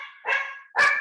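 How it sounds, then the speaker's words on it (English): A dog barks twice, close and loud, with two sharp barks about half a second apart and no talking over them. "That's my dog."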